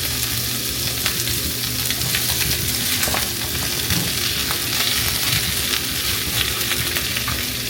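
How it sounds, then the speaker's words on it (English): Squash sautéing with seasonings in a hot pan, a loud, continuous sizzle and crackle with stirring, close and unbroken, no voices. "now I'm just going to go ahead and add my squash"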